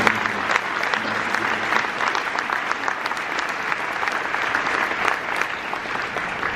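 Audience at a Canadian Red Cross Humanitarian of the Year award event claps in sustained, dense applause, a steady crowd sound close and loud throughout with no talking.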